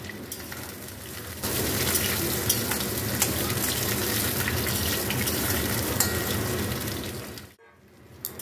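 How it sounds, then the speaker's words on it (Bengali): Pointed gourds drop into hot oil and fry with a loud, dense, steady sizzle close by, crackling continuously for several seconds before cutting off abruptly near the end. "পটলগুলো আমি ছেড়ে দিলাম, দিয়ে সব কটা পটল আমি ভেজে নেব"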